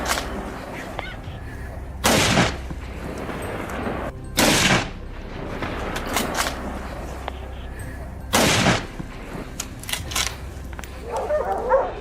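A rifle fired at a wild boar during a winter hunt: three loud, sharp blasts spaced a few seconds apart, each standing out against a quieter outdoor background.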